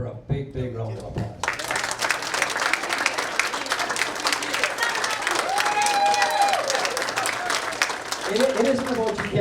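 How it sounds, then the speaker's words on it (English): At a board of trustees meeting, an audience breaks into sustained applause that starts abruptly and holds steady for several seconds, with a few cheers and voices mixed into the clapping. "And I think we really owe her a big, big round of applause."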